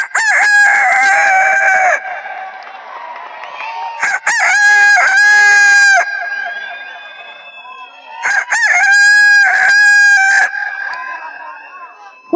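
On a comedy stage, a man imitates a rooster with his voice, giving loud, drawn-out cock-a-doodle-doo crows in three bursts separated by brief pauses.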